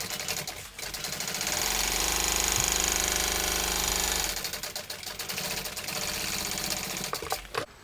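A sewing machine runs a second row of stitches on a canvas tote bag: a fast, steady mechanical chatter up close, stopping briefly before starting again in shorter bursts.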